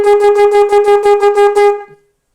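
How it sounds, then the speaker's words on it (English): A shofar sounds the truah call: about nine rapid staccato blasts in a steady pulsing rhythm, loud and close, ending with a brief falling tail and silence. "And then there's truah, which are the very short notes, staccato notes"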